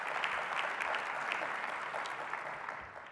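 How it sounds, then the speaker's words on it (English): A room of listeners at a 2018 State of the County Address breaks into sustained applause, a thick wash of clapping that holds steady and then slowly fades toward the end. "Yes, that deserves a round of applause."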